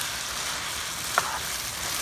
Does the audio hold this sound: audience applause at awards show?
no